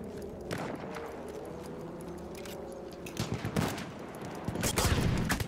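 Gunfire in the video game Battlefield 1 crackles through a busy battlefield mix, with scattered shots building into louder bursts near the end, over a steady background rumble.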